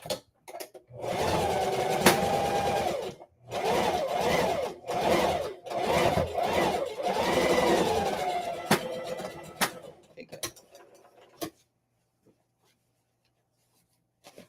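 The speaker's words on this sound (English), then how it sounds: "So we are going to sew it down nicely" A sewing machine stitches down a tote bag in several loud, close runs of rapid mechanical whirring broken by short pauses, then stops and gives way to a few faint clicks and near silence.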